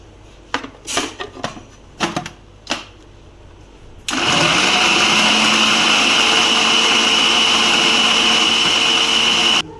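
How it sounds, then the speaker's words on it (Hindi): A few light taps and clinks, then an electric chopper starts up and whirs loudly and steadily, chopping two slices of bread in its bowl. "इधर हम 2 ब्रेड के स्लाइस लेंगे, इसको हम चॉप करेंगे।"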